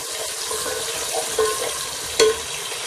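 About 150 ml of oil sizzling as sliced onions fry in a pot toward dark brown for mutton tahari; a steady, close bubbling hiss runs throughout, with a couple of brief utensil clinks.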